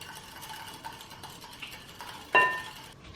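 A spoon or whisk stirs warm milk with yeast in a bowl, producing soft, continuous swishing and light scraping, capped by one sharp clink of metal against the dish near the end.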